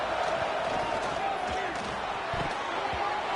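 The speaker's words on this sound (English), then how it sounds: "It's early, but this crowd is fired up. Listen to this noise here." Stadium crowd noise in the College Football 26 video game, Houston at WVU in a first-round playoff game, a steady roaring wash of cheering with faint thumps underneath.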